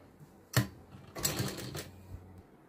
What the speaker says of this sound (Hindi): साइड से सिलाई लगा देंगे।